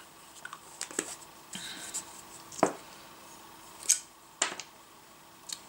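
Scissors cutting around a pendant, a few sparse close snips and soft paper-like rustles separated by short quiet gaps.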